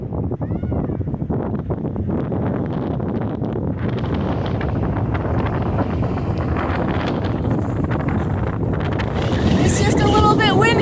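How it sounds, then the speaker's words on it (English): Strong, steady wind buffets the microphone at the Charlevoix lighthouse in Michigan, a constant roaring rush that grows louder and gustier near the end. "It's just a little bit windy out here."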